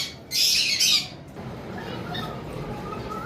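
Cockatiels at a bird farm give a loud burst of harsh, shrill squawking lasting under a second, followed by quieter background chirps and ambient noise.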